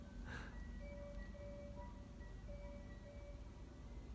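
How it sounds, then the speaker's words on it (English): Ice cream truck chiming its repeating melody from a distance as it rolls down a lane, the tune faint and steady over a constant low background rumble, with no voices. "I'm pretty sure that is an ice cream truck."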